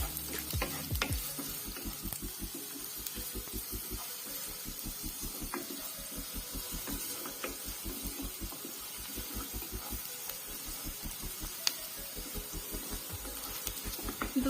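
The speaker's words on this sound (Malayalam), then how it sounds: "അടുത്തത് സവാള ഇട്ട് കൊടുക്കാം. അപ്പൊ നമുക്ക് ഇതൊന്ന് വഴറ്റിയെടുക്കാം." Onions sauté in a pan for a vegetable cutlet mixture: a soft, steady sizzle with a rapid, rhythmic scraping of the spoon stirring throughout, close but fairly quiet, without speech.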